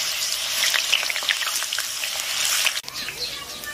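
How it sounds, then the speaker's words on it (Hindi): Potato chips dropped into very hot oil, giving a steady loud sizzle and bubbling hiss that fills the whole stretch with a brief disturbance near the end. "तेल हमारा गर्म हो गया है तो इसमें हम डाल देते हैं चिप्स को।"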